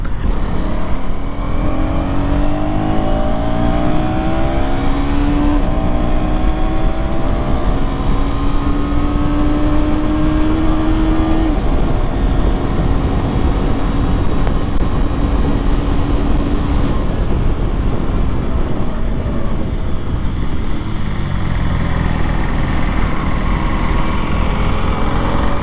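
A KTM Duke 250 motorcycle engine climbs through the gears with its quickshifter, revs sweeping up and dropping at each shift amid steady wind rush, heard from on board and loud throughout.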